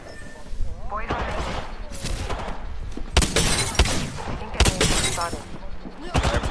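Rapid gunfire bursts in a shooter video game, sharp repeated shots and clusters of fire over steady game noise, with players talking excitedly throughout.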